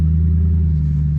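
Close, loud idle of a BMW E92 M3 with loud exhaust, a deep steady rumble holding an even note without RPM swings through the brief stretch.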